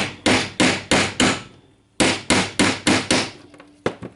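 Sharp hammer blows on a part of a Milwaukee M18 FIW2F12 compact impact wrench ring out in two quick rhythmic runs of about five strikes each, loud and close, separated by a brief pause.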